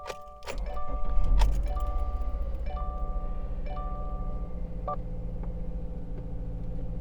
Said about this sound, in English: I'm gonna turn the key off, remove it out, and I'm gonna start the car.